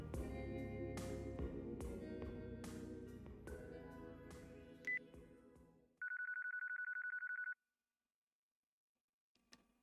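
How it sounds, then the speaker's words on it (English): A phone ringing during a call in Yakuza 4 plays as a steady electronic ring tone lasting about a second and a half, following a busy stretch of game music and sound effects, then the line falls silent. "If you call from my cell, I'm sure he'll answer."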